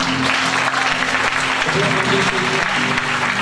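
A church congregation applauds steadily throughout, a dense wash of clapping with a voice or tones faintly audible underneath.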